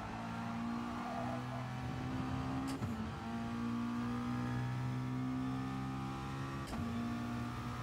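McLaren race car in Gran Turismo Sport, its engine droning steadily at a high, sustained pitch, with two sharp gear-shift breaks where the tone drops and climbs again.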